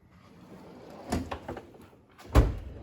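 A bottom drawer of a Snap-on mechanic's toolbox in a small engine repair shop slides open, giving two short rattling bursts of metal runners and loose tools, the second louder and closer.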